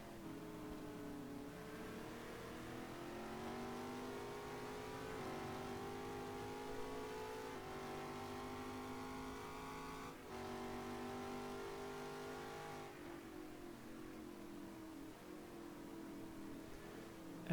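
Several racing cars in a GT sim race at the Brno circuit, engines revving continuously with rising and falling pitch through gear changes, loud and steady throughout, with no voices.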